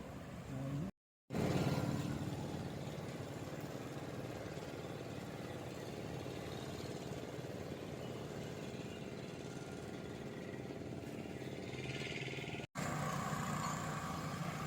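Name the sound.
speed boat engine on backwater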